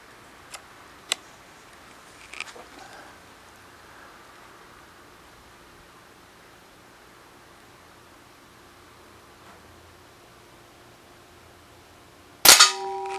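A single sharp, loud crack of a Crosman 1377 American Classic .177 pump pellet pistol firing, followed by a brief ring, near the end after a long stretch of quiet room tone with a few faint clicks.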